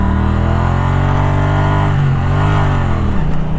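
A 2017 Triumph Street Cup motorcycle engine drones loud and steady while riding, its pitch dipping slightly near the end, with no talk.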